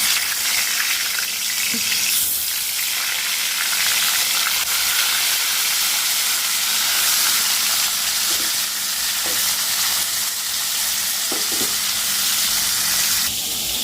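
Fish and potatoes frying in hot oil in a wok, a loud, dense, continuous sizzle and hiss heard up close, with occasional stirring clicks and no talk.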